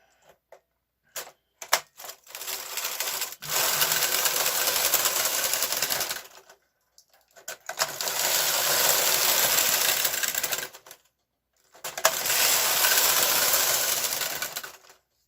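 A punch-card knitting machine knits rows in tuck stitch, the carriage running in three long mechanical passes of dense clattering and whirring, separated by short silences and a few sharp clicks at the start.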